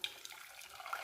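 Milk pours steadily into a saucepan for about a second, a soft continuous splashing trickle, close and fairly quiet.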